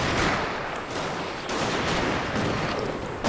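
Gun towers fire in battle in the strategy game Total War: Shogun 2 – Fall of the Samurai, with rapid overlapping gunshots and volleys that form a loud, dense, sustained crackle.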